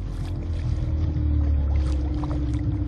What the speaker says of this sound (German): Sein großes schwarzes Boot glitt über das ölige Wasser.